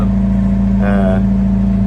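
The inboard engine of a Rival 41 sailboat, recently worked on, motors at sea against wind and tide. It makes a loud, steady low drone with a constant throbbing hum throughout.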